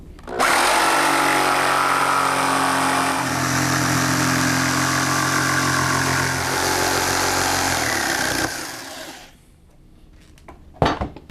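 A power saw cuts wood for model railroad benchwork: a loud, steady whine with a low motor drone holds for about eight seconds, then spins down, with a few faint knocks afterward.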